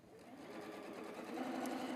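A home sewing machine runs steadily while chain piecing quilt blocks, a continuous close whirring hum with faint stitch rhythm and no talk.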